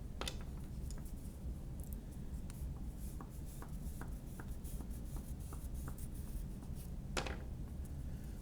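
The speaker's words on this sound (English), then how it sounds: "I'm holding my paper with one hand while I write with the other" A pen scratches lines across paper held down by one hand, steady soft rubbing with small ticking strokes, close and quiet throughout.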